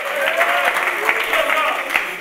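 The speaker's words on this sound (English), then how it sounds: "then we clap our hands" Congregation clapping hands during a church service, a steady dense patter of many hands filling the space, with voices mixed in underneath.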